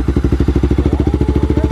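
Honda XRE 340cc motorcycle engine running just after starting, a loud, close, rapid steady thumping with even pulses and a slight pitch rise near the end.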